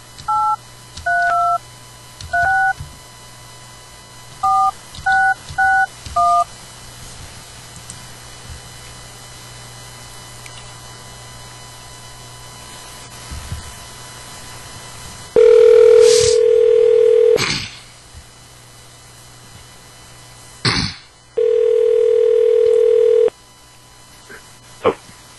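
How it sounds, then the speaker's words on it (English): Telephone dialing for a radio interview call: two bursts of DTMF keypad tones in quick clusters, then two long steady ringback tones separated by a pause, heard clearly over a low line hum. "Let's give Marzi a call and see what that bad motherfucker's been up to"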